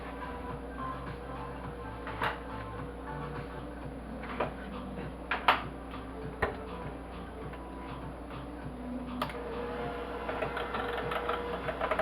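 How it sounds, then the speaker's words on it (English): An electric hand mixer whirs steadily through sweet potato pumpkin pie filling, a continuous motor hum with faint rhythmic ticking and a few small knocks against the bowl, with no talking. "I'm going to take my mixer and mix it well."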